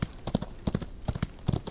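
Horse hooves clip-clop in a quick, steady rhythm, close and distinct, with no voices, in the video game Outlaws of the Old West.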